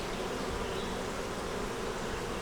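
Honeybees festooning on foundation inside a hive make a dense, steady buzz, close and continuous, with no voices.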